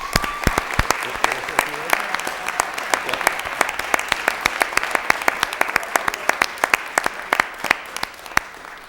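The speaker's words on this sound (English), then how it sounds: "Come on, let's have a round of applause for those teachers." People in a city council chamber applaud teachers, with distinct sharp individual claps ringing out over a steady patter of clapping for several seconds.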